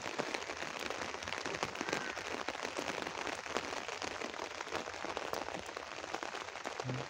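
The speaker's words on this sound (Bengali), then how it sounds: "বৃষ্টি হইতে আছে প্রচুর পরিমাণে।" Heavy rain pours down on a roadside, a dense, loud, continuous patter and crackle of drops hitting the surface, with no one talking.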